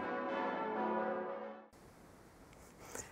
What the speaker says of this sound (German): Für alle Glockenfans haben wir das komplette Festtagsläuten aufgenommen.